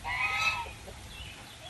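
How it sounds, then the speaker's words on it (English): A single goose lets out a loud, close honk that trails off, followed by a fainter call, with a steady low background murmur beneath. "I'm sorry about the goose."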